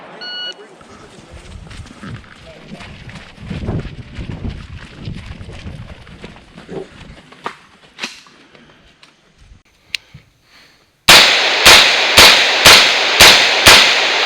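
Rifle and pistol shots fired at IDPA targets during a shooting match, a rapid string of six or so loud cracks at the end after a stretch of muffled sounds and voices.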